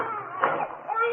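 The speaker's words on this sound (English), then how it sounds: "You could hear a baby crying" A baby's thin, wavering cry, a radio drama sound effect, rises and falls briefly against a muffled low background, fairly faint and distant.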